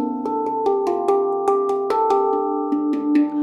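A handpan in D Kurd plays a phrase of Carol of the Bells, with steady struck metallic notes ringing into each other, warm sustained tones and bright attacks, close and clear.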